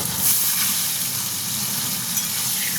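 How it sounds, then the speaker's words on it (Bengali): Potatoes frying in hot oil in a pan after a tempering of nigella seeds, giving a steady, close sizzle and hiss that runs unbroken throughout. "আলুটাকে একটু আমি ভাজা ভাজা করে নেব"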